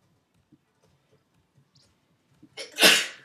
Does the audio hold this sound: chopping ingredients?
no